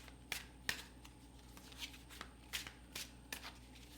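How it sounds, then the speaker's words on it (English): Tarot cards being shuffled in short riffling bursts, several quick snaps spaced irregularly, close and fairly quiet. "Just bear with me while I'm shuffling."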